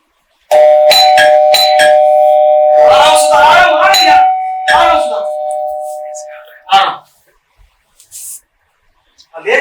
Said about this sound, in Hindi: घंटी पे घंटी बजा के आओ